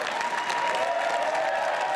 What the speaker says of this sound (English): A roar of applause for Donna Skelly as she takes her place on the dais